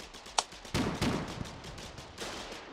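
Gunfire in the war video game Foxhole crackles through a battle, with a sharp single shot followed by heavier bursts of rifle and machine-gun fire that fade to distant scattered shots.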